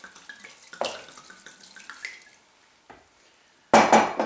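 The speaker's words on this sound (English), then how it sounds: "I'm going to add a little bit of wine." Wine is poured into a bowl of homemade probiotic beef salami mix, with light clinks and small liquid splashes, then a louder, sloshing pour at the close.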